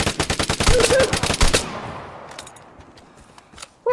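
Rapid gunfire in a video game shootout: a loud, fast string of sharp shots for about a second and a half, then fading noise and a short final burst.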